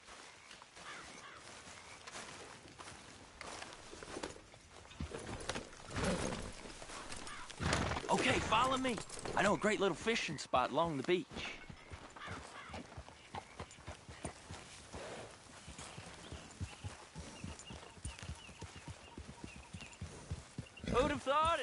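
Horse hooves clip-clop steadily under continuous conversation while riding toward a beach fishing spot in the game Red Dead Redemption 2, with the footfalls sitting fairly low beneath the talking.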